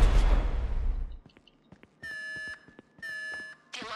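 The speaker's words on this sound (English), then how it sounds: "The alarm's been tripped." An alarm goes off inside the video game GTA V after a blast: a loud rumble fades into scattered clicks, then two sustained electronic beeping tones sound in bursts, with a third starting at the end.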